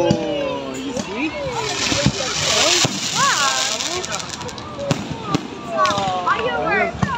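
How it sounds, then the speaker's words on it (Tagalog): Several fireworks pops and crackles over a steady roar, while excited voices shout and exclaim throughout. "Naabutan din natin yung fireworks."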